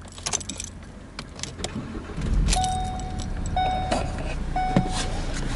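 Keys jangle inside a car, then the ignition turns and a short starter whirr and thump follow, with clicks, faint electrical tones and rustling around it; nobody speaks.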